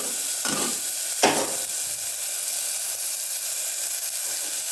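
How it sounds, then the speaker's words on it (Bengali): A spoon stirs vegetables with salt and turmeric in a frying pan, giving two brief scraping strokes over a continuous close sizzle that hisses on steadily. "সমস্তটাকে নাড়িয়ে নেব।"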